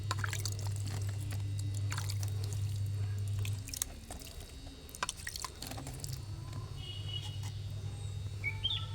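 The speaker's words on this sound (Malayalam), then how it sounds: "ഇത്തിരി വെള്ളം തെളിച്ച് കൊടുക്കുക." Water is sprinkled onto a freshly planted brinjal seedling in ash-topped garden soil, making faint, scattered drips and patters over a steady low background hum.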